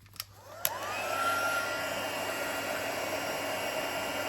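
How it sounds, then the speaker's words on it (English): A heat tool for melting embossing powder on a handmade card starts with a couple of clicks, then settles into a steady, close whooshing blower roar that runs to the end. "I can bring my heat tool and just melt that powder really quickly"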